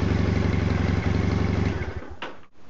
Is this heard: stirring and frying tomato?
no